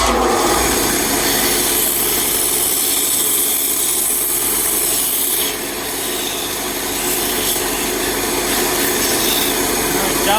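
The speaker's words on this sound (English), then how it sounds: "Finish it off on the belt sander." A belt sander grinds against a wooden mug in a school wood shop, a loud, steady abrasive whir that runs unbroken throughout, with a slight drop in pitch and level near the middle.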